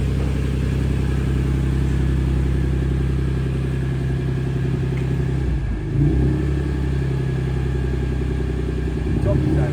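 Engine of a Nissan Pathfinder running and revving loudly close by, a steady low drone with a brief dip and rise in pitch midway, heard without speech.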